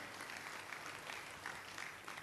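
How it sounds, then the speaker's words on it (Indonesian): Church congregation applause during a sermon, a quiet, distant patter of many hands clapping for a couple of seconds. "Berikan tepuk tangan bagi Allah kita"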